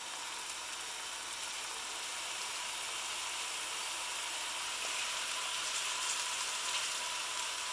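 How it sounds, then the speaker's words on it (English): Spice mix with garlic and ginger frying gently in a pan for a curry with roasted squash and chickpeas, giving a steady, soft sizzle and hiss that runs without a break and with no talk. "Give the spice mix a good stir and let that just fry gently for a few minutes"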